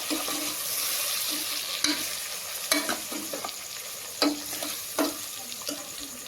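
A spoon stirs rice with salt in a pan for vegetable biryani, giving a soft continuous scrape and light sizzle with a few sharper clinks against the pan, close and fairly quiet, no talk.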